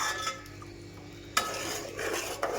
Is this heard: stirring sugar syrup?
yes